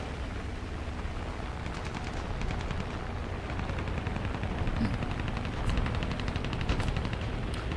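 Rapid machine-gun fire in the combat game War Thunder rattles in long, dense bursts over a heavy, rumbling engine and battle din, continuous and loud throughout.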